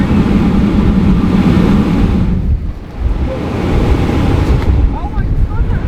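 A coastal blowhole pushes air in a broad, rushing whoosh as waves surge beneath it, a loud windy roar that briefly drops away and then swells again, with wind buffeting the microphone.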